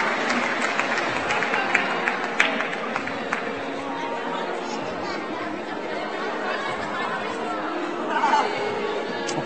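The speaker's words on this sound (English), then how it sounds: "Okay, applause for Katja." Crowd chatter fills a climbing competition venue at a lead and bouldering final, a steady murmur of many voices, with light clapping mixed in and a brief swell near the end.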